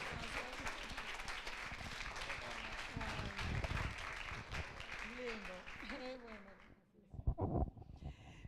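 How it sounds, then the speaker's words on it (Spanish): Church congregation applauding to welcome someone speaker, a sustained wash of claps heard from a distance and fading out, followed by a voice. "Reciban a mi hermana Liliana con un fuerte aplauso."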